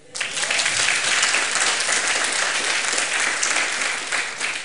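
Audience applause at a church miracle-testimony gathering: dense, steady clapping from a large crowd that starts abruptly and keeps going, loud and unbroken throughout.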